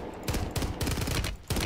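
Rapid gunfire bursts from the video game Warzone rattle in quick repeated volleys, several sharp clusters of shots close together and loud throughout.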